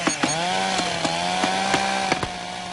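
A chainsaw runs steadily and loudly with a droning engine tone, punctuated by repeated sharp clacks at an uneven rhythm.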